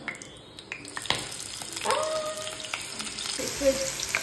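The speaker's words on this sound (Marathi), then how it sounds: "सो तेलान हांवें बटाट घातला. ताका मातशें तेलान फ्राय जावनी" Potatoes frying in hot oil in a home kitchen in Goa give a steady, moderate sizzle, with a few brief clatters and a short tonal squeak near the end.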